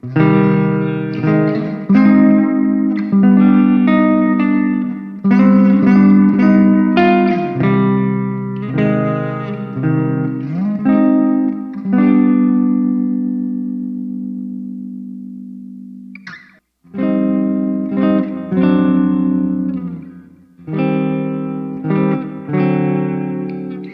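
Clean electric guitar notes and chords through the ML Sound Lab Amped Burger plugin ring out with delay repeats and a roomy reverb tail, pausing briefly before resuming.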